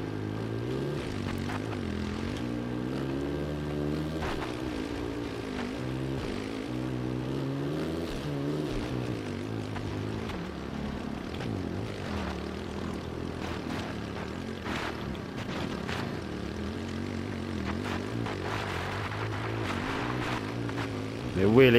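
Honda TRX 450 quad engine in MX vs ATV Legends, a droning, buzzing exhaust whose pitch rises and falls repeatedly with throttle through laps, ending in a sudden loud burst.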